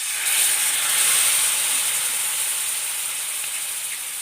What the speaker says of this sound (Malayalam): ഇനി ഇതിലേക്ക് കുറച്ച് വിനാഗിരി ഒഴിച്ചു കൊടുക്കുക.